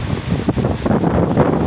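Strong typhoon wind and rain in Balingasag, Misamis Oriental, Mindanao, during a power outage: a steady, loud roar of wind with a dense hiss of rainfall and a few gusty swells, heard close and without voices.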